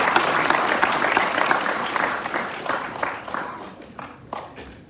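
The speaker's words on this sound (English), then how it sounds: "everybody's give them a round of applause." Audience applause at a youth sports league awards ceremony: dense, steady clapping from a crowd that holds loud, then slowly thins and fades toward the end, with scattered individual claps standing out.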